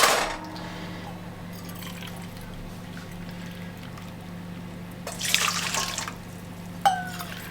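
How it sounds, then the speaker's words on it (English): Boiling water is poured while making a caramel self-saucing pudding, with a quiet background hum, a brief pour or splash near the start and a longer burst of liquid later, followed by a small clink. "going to get 3 cups of boiling water"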